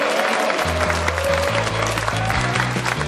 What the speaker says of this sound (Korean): 오늘 이렇게 귀한 시간 내주신 두 분에게 박수 한번 부탁드리겠습니다.